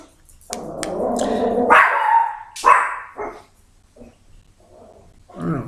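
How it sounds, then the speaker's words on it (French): A small female dog barks several times at close range, with sharp yapping barks and growly yips and short pauses between them. "Elle me perturbe, ma petite chienne."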